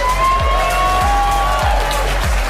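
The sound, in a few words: audience applause and cheering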